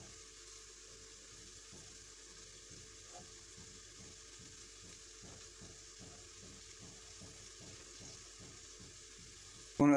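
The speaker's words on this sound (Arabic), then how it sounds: "ها هو الدجاج ديالي ما شاء الله كيتقلى" Chicken frying in a pan during couscous preparation, giving a steady quiet sizzle with faint crackles throughout, alone and without talk, then a sudden louder clatter right at the end.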